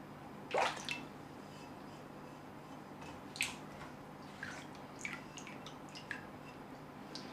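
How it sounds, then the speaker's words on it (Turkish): Water rinsing the surface of a Mitsumoto Sakari 3000 grit whetstone, a few faint splashes and drips scattered over a quiet background, with one sharper splash near the start. "taşın üzerini yıkayalım"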